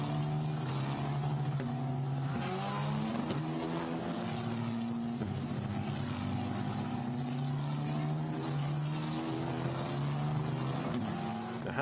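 Formula Renault Eurocup race cars running in a bunched line behind the safety car at Imola in 2020, a steady loud engine drone with overlapping tones rising and falling continuously throughout.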